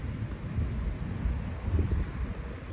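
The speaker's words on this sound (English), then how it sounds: "It's really windy" Strong wind buffets a microphone outdoors, a continuous low rumbling roar with gusty swells and no clear voices.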